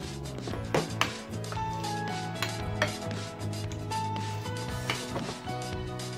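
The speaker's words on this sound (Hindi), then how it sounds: "अब मैं इसके अंदर ये नट्स डाल रही हूँ" Mixed nuts dropped into a creamy condensed milk and cream dessert mixture for a fruit cocktail, giving soft scattered taps and small knocks of pieces and a utensil in a bowl over quiet background music.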